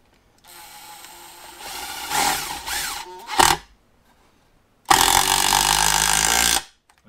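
A Makita impact driver drives a fastener in several short bursts, first a buzzing whir with rattling hammering, then a sharp clack, and after a pause a louder, continuous whine that stops abruptly.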